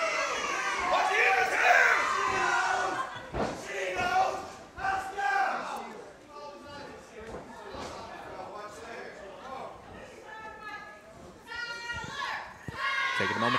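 Wrestling crowd at a singles match cheering and shouting, with high-pitched children's voices and yelling rising and falling in waves, loudest at the start and easing later.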